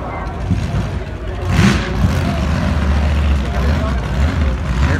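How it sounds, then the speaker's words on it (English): A wheel stander drag race car at the Bakersfield strip, its engine rumbling loud and low with a rising surge of revving midway, steady and close under crowd noise and some talk. "I hear another wheel stander coming to life"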